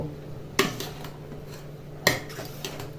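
A spoon clinks twice against a metal pot while boiled mung dal is mixed with bottle gourd, two sharp knocks over a faint, steady background murmur.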